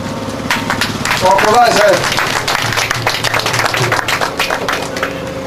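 Audience applause at an agency opening ceremony in Malanville, a sustained patter of many hands clapping over the full span, mixed with voices and a speaker talking over it.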